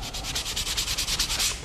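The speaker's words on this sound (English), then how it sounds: "just sanding all of our nail holes" Sandpaper rubs by hand over nail holes in a wooden picture frame, a close, steady series of about a dozen quick back-and-forth scratchy strokes with no talking.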